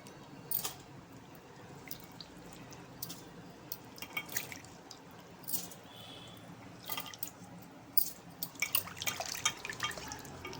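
Horse gram lentils are rinsed in water, with soft drips, splashes and sloshing that come in scattered faint bursts close by.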